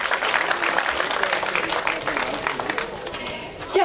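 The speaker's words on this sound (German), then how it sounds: "Und wir bitten um Applaus während des Auszugs." An outdoor audience at a park inauguration claps as a volunteer fire brigade marching band departs, a steady, moderately loud patter of applause with talk mixed in.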